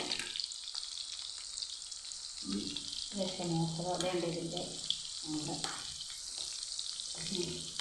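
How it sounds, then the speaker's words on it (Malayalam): Fish frying in oil for a Kerala-style fish fry makes a steady, busy sizzle that swells as pieces are turned, with a person talking briefly over it. "ഇത് ഇങ്ങനെ മാറിച്ചിട്ടിട്ടാണ് നമ്മളിത് വറുത്ത് ഊരി എടുക്കുന്നത്"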